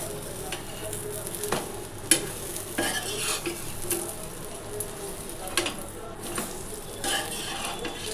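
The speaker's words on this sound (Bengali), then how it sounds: "এক পাশ সেঁকা হয়ে গেল, আর এক পাশ এবার সেঁকছে।" A roti toasting on a hot pan, with a soft, steady sizzle broken by repeated scrapes and light taps of a utensil against the metal, quiet and close, with no talk.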